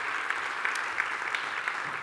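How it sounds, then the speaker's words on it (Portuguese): An audience applauds a performer at a public presentation of a national youth plan, a dense, steady patter of many hands clapping, fairly close and sustained throughout. "Uma salva de palmas mais uma vez para o Ricardo Baião"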